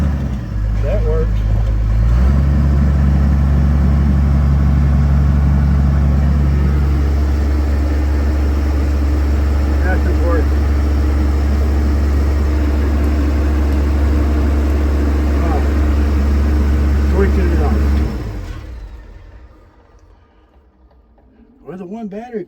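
A loader's diesel engine runs at a steady, loud idle for most of the stretch, a constant low drone that cuts off abruptly near the end, leaving quiet background.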